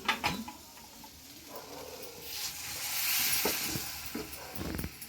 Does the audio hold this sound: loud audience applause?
no